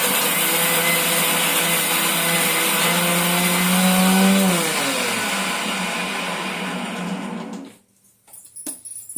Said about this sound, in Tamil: ஒரு கட்டி பூண்டு, இது பாருங்க இஞ்சி, இதை போட்டு கொஞ்சம் அரைச்சிட்டு வந்துடலாம் போயிட்டு.